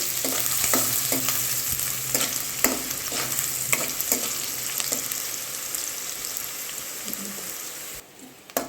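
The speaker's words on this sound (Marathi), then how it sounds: "मध्यम आकाराचा एक बारीक चिरलेला कांदा गॅस मंदच राहू द्यायचा आहे" Finely chopped medium onion fries over a low gas flame, a steady close sizzle with scattered crackles and stirring scrapes that drops off sharply near the end.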